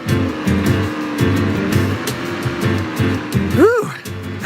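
A kart driving in Mario Kart World, a constant engine drone with rhythmic pulses, then a rising and falling whine near the end. The engine sits under talk and game sounds.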